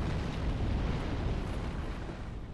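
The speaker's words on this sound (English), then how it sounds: "Fire." A fiery eruption in the video game Dark Souls III, heard as a continuous broadband roaring rush at fairly low level, steady for a couple of seconds with no voice over it.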